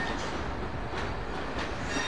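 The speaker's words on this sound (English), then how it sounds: "Class 87 leaves with service 1D66, the 1703 to Holyhead" A Class 87 electric locomotive hauling an evening service with Mark III sleepers out of London Euston, a faint steady rumble of rolling stock with light clickety wheel sounds and no talk.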